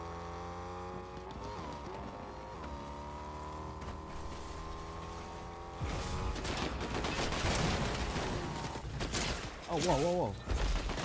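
Gunfire in a Fortnite shooting fight, bursts of rapid shots and clatter building in the second half over a steady engine-like drone, with a man exclaiming over the action.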